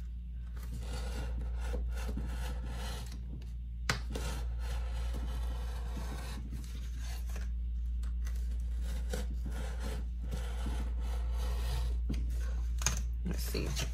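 A blade scrapes and rasps steadily while cutting out a shaker cake topper shape on a self-healing cutting mat, close and continuous with small pauses and a couple of sharp clicks.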